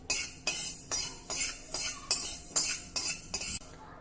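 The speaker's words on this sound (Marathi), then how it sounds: "7 ते 8 लवंग, हे देखील आपल्याला थोडं भाजून घ्यायचं आहे" Black peppercorns and cloves dry-roasting in a pan, heard as a quiet series of about eight rhythmic metallic scrapes and clinks from stirring, spaced roughly every half second.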